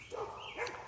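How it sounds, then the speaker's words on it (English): A neighbouring dog barks faintly in the background, one or two short distant yaps over a quiet room. "I apologize for the dog barking in the background. It's the neighbor's dog."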